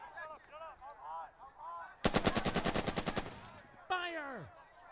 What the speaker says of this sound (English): We'll continue to shoot at them with the MG.